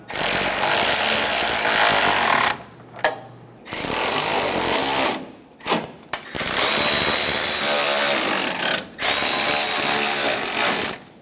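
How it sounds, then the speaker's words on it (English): A power tool drives bolts into the grille and bumper of a 2014-2018 Chevrolet Silverado 1500 pickup truck. It runs in several loud, close, rattling bursts, each lasting a few seconds, with brief pauses between them. "Snug the bolts down."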